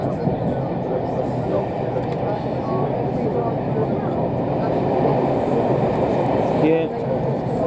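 Steam locomotive SR no 34046 hauling a Steam Dreams excursion train between Romsey and Southampton, heard from aboard as a steady loud rumble of wheels on rails, continuous throughout with faint chatter underneath.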